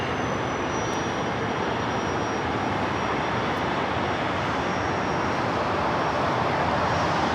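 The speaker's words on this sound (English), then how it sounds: "This Challenger 3500 coming in from Twin Falls." A Bombardier Challenger 3500 business jet arriving at Los Angeles International Airport, heard as a steady broadband roar that holds loud and even throughout, with a faint high whine riding on top and no talking.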